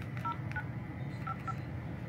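Keypad button tones from a Samsung Keystone 3 feature phone, a handful of short paired beeps in two quick clusters, clear and close over a low background hum.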